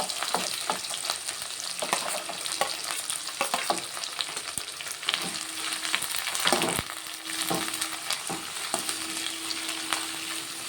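Fenugreek leaves, green chillies and chopped onions sizzle steadily in a little oil, with a continuous close crackle broken by occasional scrapes and knocks of stirring, no voices.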